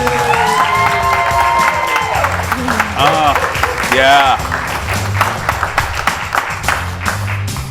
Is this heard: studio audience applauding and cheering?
yes